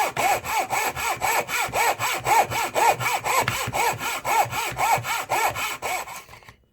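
A hand saw cuts through a wooden block along a diagonal line in steady back-and-forth strokes, roughly two per second, each a close, rasping scrape with a rising and falling pitch, clear and alone.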